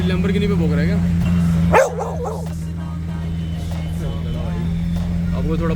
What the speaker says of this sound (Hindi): भौंकना शुरू कर दिया